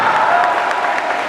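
Applause from an audience at a Teacher's Day celebration, a dense, steady wash of many hands clapping close and loud throughout, with no voices standing out.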